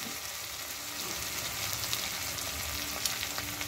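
Spice paste for rohu fish rezala frying in a pan, a soft, continuous low sizzle with faint occasional crackles and no talking.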